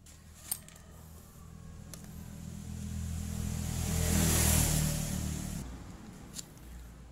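A Kawasaki KLX 150 motorcycle idles during tuning of its PE 28 carburetor, its engine slowly rising into a longer rev and easing back down, with a couple of sharp clicks.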